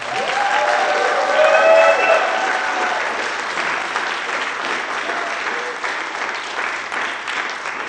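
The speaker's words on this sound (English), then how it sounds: "Let's give them a round of applause right now" A theatre audience at a thespian awards night applauds in a steady, dense wave of clapping that swells early and then holds evenly, with a few voices mixed in.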